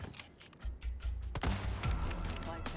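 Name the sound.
rifle gunshots killing a villager in video game Separate Ways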